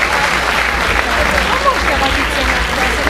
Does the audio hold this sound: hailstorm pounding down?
no